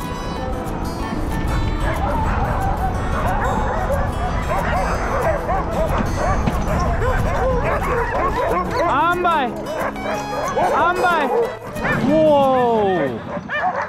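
A team of sled dogs at a kennel barking, yipping and whining continuously and loudly, with high rising yelps toward the end, all close by and excited.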